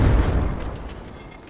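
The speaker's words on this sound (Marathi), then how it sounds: "त्यांच्या आग ओकणाऱ्या तोफांना" Portuguese cannon fire at the siege of Ponda fort: a single deep, rumbling boom that rolls out loud and slowly decays, with no voices.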